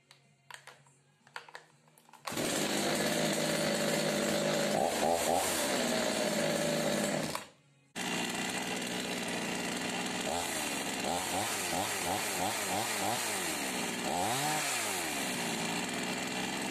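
A Chinese market-brand Huspvarna 365 chainsaw runs loud and close, revving in long sustained bursts with a brief cut-out partway, after a few quiet handling noises at the start.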